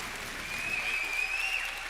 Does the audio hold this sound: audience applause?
yes